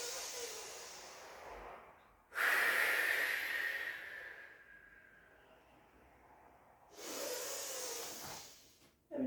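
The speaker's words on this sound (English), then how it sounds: "then relax as you breathe in." Deep yogic breathing during a Kundalini exercise: two loud, breathy exhales or inhales rush through the air, separated by quieter steady breath, with no talking.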